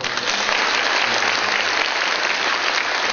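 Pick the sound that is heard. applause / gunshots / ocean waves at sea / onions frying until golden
applause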